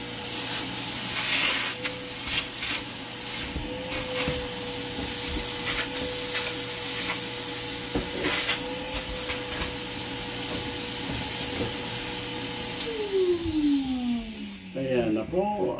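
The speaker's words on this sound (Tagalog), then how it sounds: "vacuum." A barber's vacuum runs steadily after a medium short high taper haircut, a loud continuous hissing whir with a faint tonal hum. It winds down with a falling pitch near the end, and voices come in faintly in the background.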